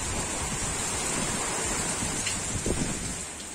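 Strong wind from Typhoon Odette (Rai) roars steadily and loudly, buffeting the microphone with a constant rushing noise and no voices.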